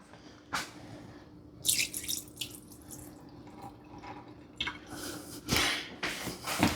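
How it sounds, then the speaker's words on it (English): Liquid from a can of green chili peppers draining into a sink, soft intermittent trickles and splashes with a few brighter bursts, quiet and close with no talking. "let me drain these"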